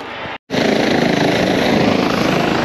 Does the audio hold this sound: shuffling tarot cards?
no